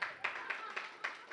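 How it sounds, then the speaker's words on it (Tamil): An audience clapping in a hall, a brief patter of hands with a handful of distinct louder claps spaced roughly a quarter second apart, at moderate distance. "கைதட்டுங்க"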